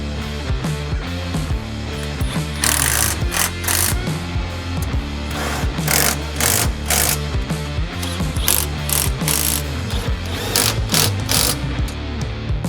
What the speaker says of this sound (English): tighten everything down, making sure that we're torquing everything as well